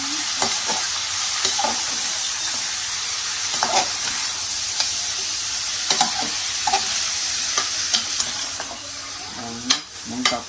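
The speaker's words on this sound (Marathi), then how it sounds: "थोडंसं परतून घेऊया याच्यामध्ये." Mutton with masala sautéing in a little oil, a steady close sizzle broken by repeated scraping strokes of a spoon stirring the pan, with no talk.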